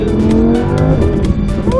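A Lamborghini Huracan Performante accelerates hard, its engine note loud and close and climbing steadily, with brief tire squeal over the continuous roar.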